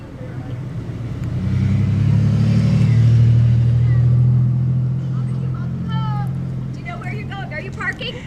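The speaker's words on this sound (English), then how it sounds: "I've got to get these cars off the road." A car engine approaches and passes by on a road at an outdoor gathering in New Mexico, swelling to a loud, low rumble in the middle before fading, with people talking afterward.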